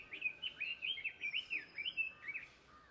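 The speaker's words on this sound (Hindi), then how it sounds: "सिर्फ चिड़िया तोते की आवाज़" Small birds and parrots chirp in quick, repeated bursts of bright tweets, steady and fairly close, with a quiet background and no talking.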